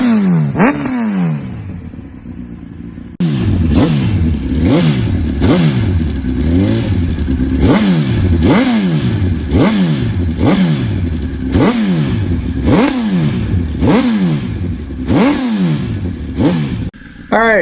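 A 2005 Honda CBR1000RR sportbike engine revs hard again and again, each blip rising and falling in a steady rhythm of about a dozen sharp throttle bursts, loud and close with no talking.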